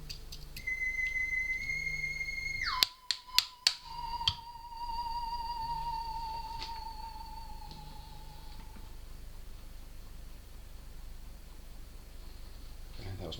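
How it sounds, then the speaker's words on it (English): A phone rings with electronic tones, a steady beeping chime that shifts pitch and holds, broken briefly by a few sharp clicks, then continues at moderate level in a quiet room. "That was my phone ringing for some reason."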